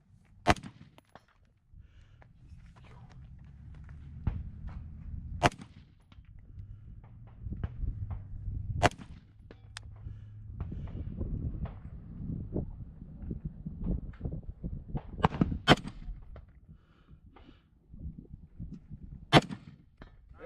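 Rifle shots ring out at a tactical rifle match, a few sharp, loud cracks spaced irregularly over a low rumbling outdoor background with scattered clanks and footsteps.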